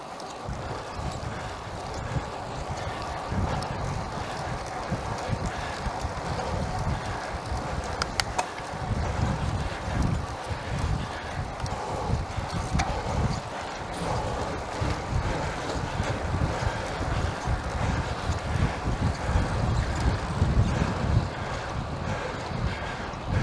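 Steady wind roaring across the microphone with low rumbling gusts, over a continuous wash of water and boat noise, no voices.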